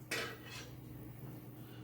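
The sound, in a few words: glass canning jars taken out of processor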